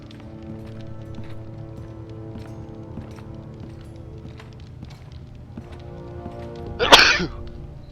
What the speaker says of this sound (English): Still can't get, I've gotten rid of the cough mostly. Sometimes when I vape. But still can't get rid of the sneezing.